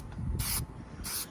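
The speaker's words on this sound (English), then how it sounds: "I'm about to spray it with some more of the stuff that I sprayed the block with to get that aluminum kind of finish" Two short bursts of aerosol spray paint hiss onto an aluminum intake manifold for a JDM B20 engine, each lasting about a quarter second, close and fairly loud over outdoor wind.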